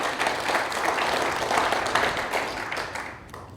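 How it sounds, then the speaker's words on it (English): Audience applause fills the hall at a youth climate-action event, a dense sustained clapping that holds steady then thins slightly toward the end. "So clap for yourself."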